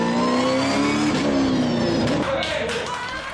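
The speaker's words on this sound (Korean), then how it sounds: "서킷 안의 차들은 더 좋은 기록을 내기 위해 한껏 속도를 내봅니다" Race cars roar along a racing circuit, engines howling at high revs in a loud, sustained drone that shifts pitch as the cars pass, with a commentator talking over them.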